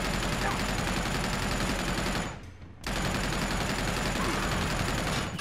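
A minigun in Uncharted 2 fires a sustained, dense buzzing stream of rounds, stopping briefly for about half a second before resuming just as steadily.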